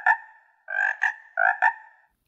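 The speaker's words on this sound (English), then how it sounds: "So that's the SparkFun MP3 player, controlled by the PICAXE chip, which is how my little frog works." An animatronic frog plays a croaking sound through a SparkFun MP3 player run by a PICAXE chip: a few short ribbited calls in pairs, clear and close against silence.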